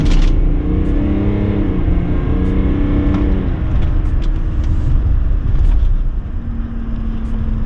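A 3.0L Duramax LM2 diesel pickup with a turbo resonator delete roars at full throttle, a loud continuous drone heard from inside the cab, rising slightly with faint clicks and rattles.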